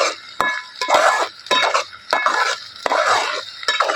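Onions frying in a pan for a dhaba-style egg curry are stirred with a metal spoon, giving repeated scraping and clinking strokes over a soft sizzle, close and rhythmic.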